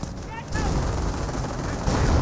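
Pintle-mounted machine gun rattling in a Company of Heroes 1 match, a sustained burst of game gunfire under faint background battle noise and commentary.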